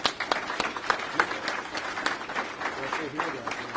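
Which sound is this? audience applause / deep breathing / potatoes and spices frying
audience applause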